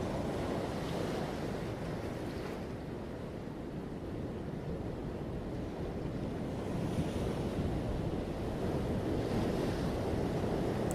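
Ocean waves roll and break in a steady, continuous wash of surf, with a broad rumble and gusts of wind buffeting the microphone throughout.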